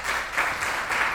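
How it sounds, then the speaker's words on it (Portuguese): Brief applause from a seated audience welcoming guests to a panel on transforming the Brazilian economy, a steady patter of many hands at moderate distance with no talk. "peço uma salva de palmas para cada um"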